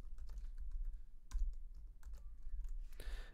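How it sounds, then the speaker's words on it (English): Keys on a computer keyboard tapped in short irregular bursts, close and fairly soft, with a few louder strikes and brief pauses between runs, entering a host name into a router's DNS settings page. "then we can type in a host name"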